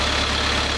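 A Beta 38 marine diesel engine on a sailboat idles out of gear at about 1,000 RPM, a steady, close, even low rumble.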